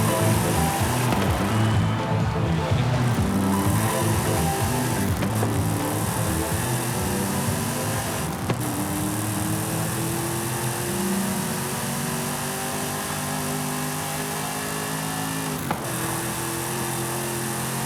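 A car engine in a video game drones and revs in rising and falling sweeps, a steady mechanical roar with occasional sharp shifts, no talking.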